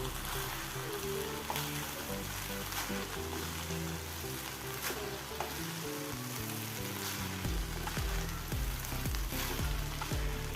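Vegetable fried rice with spring onions being stirred in a pan, a continuous soft sizzle with repeated scraping strokes of the spatula, a faint voice underneath.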